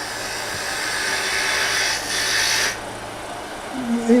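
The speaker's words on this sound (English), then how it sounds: "using the bowl gouge is using just the same kind of motion that you would use if you were turning the inside of a bowl" A wood lathe spins while a bowl gouge cuts a finial ornament, giving a steady whirring hiss with a brighter scraping edge that drops away near the end, close and continuous, with no talk.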